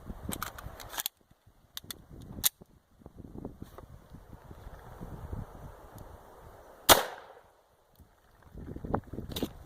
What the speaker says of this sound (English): We'll take that shot into that right side block.